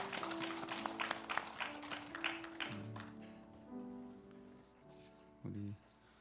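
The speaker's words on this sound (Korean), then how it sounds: "하나님께 박수로 영광 올려드리겠습니다" A church congregation at a Sunday morning service gives a brief round of applause lasting a few seconds, which then gives way to a speaking voice and sustained tones.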